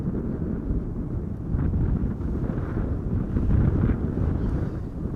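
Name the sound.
gusty wind at airport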